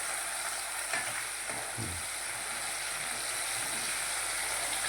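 Ginger, chili and garlic paste sizzles in hot oil with asafoetida, a steady, fairly faint frying hiss with a few stirring scrapes partway through and no voices.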